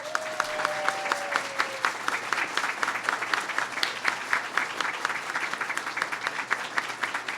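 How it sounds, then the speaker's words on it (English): Embassy staff in Cuba applaud steadily through the whole stretch, a dense room-filling patter of many hands with a few brief voices and a short tone near the start. "Give them a big round of applause."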